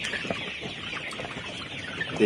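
Layer pullet poultry chickens on a farm clucking softly and continuously, a low busy flock murmur with scattered brief calls, fairly faint throughout.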